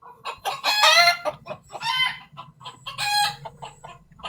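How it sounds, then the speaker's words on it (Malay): Chickens cluck and squawk loudly in bursts close by, with a faint low hum underneath and no talking. "Nak borak apa doh kalau bunyi ayam macam gini doh?"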